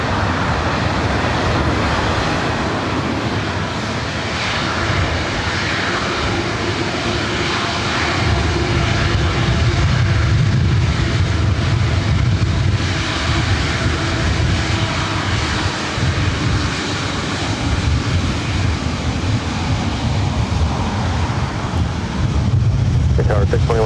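An Airbus A350-900 jet airliner at Los Angeles International Airport roars with a loud, sustained engine rumble and whine over about twenty-four seconds, mixed with wind buffeting on the microphone and some faint talk.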